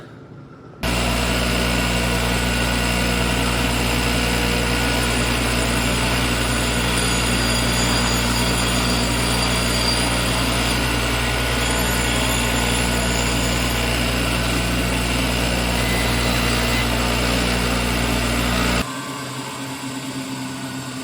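Angle grinder grinding on a scratch-built steel tailgate hinge for a 1927 Ford, a loud, steady high-pitched whine running continuously for about eighteen seconds before cutting off.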